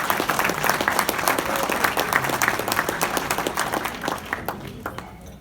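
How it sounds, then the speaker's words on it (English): A crowd at a graduation ceremony applauds family and friends, with dense, sustained clapping that fills the room and gradually thins out toward the end. "I would like to do a quick round of applause for the family and friends that are here to support you tonight"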